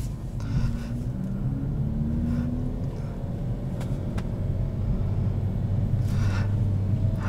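A 2021 Kia Forte with a manual transmission pulls forward in first gear, its steady low engine and road rumble continuous and close, with a faint rising drone underneath.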